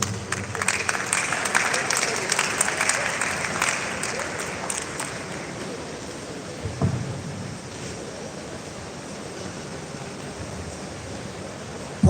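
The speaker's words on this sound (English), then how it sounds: "Please, a warm round of applause for Professor Mcpd." Audience applause for a professor after a tax paper at a professional development session, a broad wash of clapping loudest at the start and thinning over twelve seconds.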